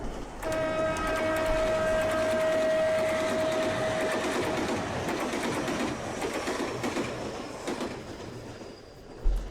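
A train in the video game The Kids We Were rumbles steadily with a sustained whistle-like tone early on and repeated clacking over the running noise, loud and continuous with no voices.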